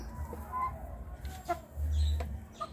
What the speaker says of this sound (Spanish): el hermoso Claudio un gallo suce